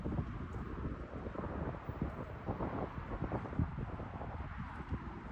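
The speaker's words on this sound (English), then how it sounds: "It's still a little windy." Wind gusting outdoors on a street beside a small shop with swaying trees, heard as a steady, fairly loud rushing buffet across the microphone with no talking.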